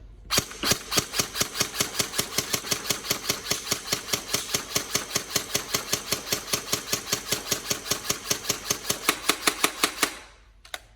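A Tokyo Marui MP5K airsoft electric gun firing a long, steady full-auto burst of rapid, evenly spaced cracks over a mechanical whir, close and loud for about ten seconds before stopping abruptly.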